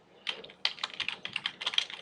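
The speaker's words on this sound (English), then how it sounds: "So I'll start typing" Quick, uneven clatter of computer keys being typed into an Excel spreadsheet, close and fairly quiet, with no talking.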